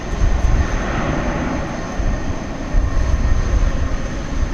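A Frontier airliner takes off from runway 18 left at DFW Airport at night, a loud, continuous, rumbling engine roar with heavy low-end noise and wind.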